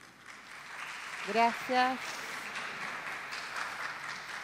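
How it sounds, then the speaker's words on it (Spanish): Warm audience applause fills the room as a speaker is welcomed, a continuous moderate wash of clapping with a brief spoken thanks over it. "la recibimos con un caluroso aplauso"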